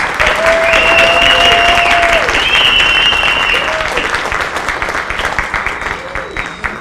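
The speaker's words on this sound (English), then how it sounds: "I would like for y'all to give them a great round of applause." Audience at a city MLK oratorical contest gives a sustained, loud round of applause for the standing contestants, with cheers and whoops rising over the dense clapping before it gradually thins out.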